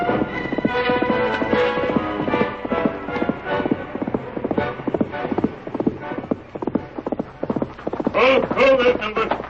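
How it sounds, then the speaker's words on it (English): Horse hooves clip-clop in an old-time Lone Ranger western radio drama, a steady rhythmic trotting close up under a layer of music and voices, rising with a whinny-like burst near the end. "Called his horse Silver."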